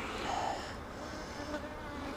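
Honeybees buzz at an open hive, a dense, steady swarm drone with individual bees whining past close by.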